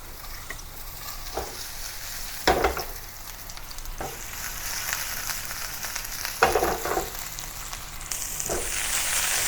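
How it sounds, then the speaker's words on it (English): Pork meatballs pan frying in oil, a steady broad sizzle running throughout with a few louder clattering bursts as they are stirred or turned. "Let's pan fry some meatballs."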